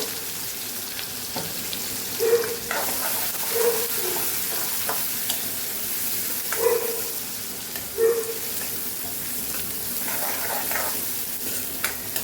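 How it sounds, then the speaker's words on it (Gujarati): Onions sizzle steadily in hot oil with a constant crackling hiss, punctuated by a few soft scraping stirs of a spoon. "પહેલાં ડુંગળીને સાતળી લેવાની છે"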